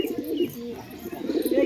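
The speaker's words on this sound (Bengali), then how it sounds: "দেখুন কত সুন্দর পায়রাটা।" An old fancy tumbler pigeon coos close by in low, warbling repeated calls, with no voices over it.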